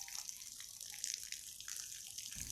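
Fertilizer solution poured around the base of a young grafted avocado tree, a faint steady splash and trickle of water soaking into soil.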